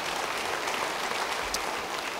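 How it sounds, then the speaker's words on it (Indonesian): Church congregation clapping together in a steady, dense burst of applause lasting a couple of seconds, with no voices over it. "Yang percaya beri tepuk tangan bagi dia."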